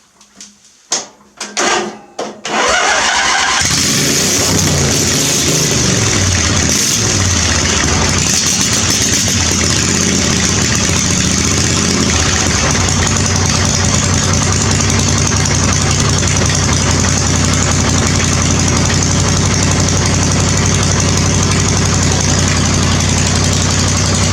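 After a few knocks and clunks, a small lawn mower engine cold-starts with partial exhaust and runs continuously, a loud steady buzzing drone that holds without pause.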